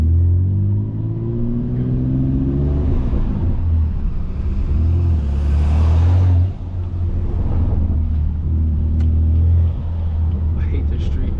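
Straight-piped 650 hp BMW F80 M3 with a large 3.5-inch downpipe, its loud, raw exhaust droning and surging from inside the car, with a voice talking over the engine noise.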